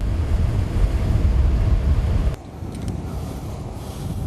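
Wind and waves at sea buffet a small boat in rough weather ahead of a typhoon, a loud steady roar of wind and surf that drops to a quieter rush partway through, with no voices.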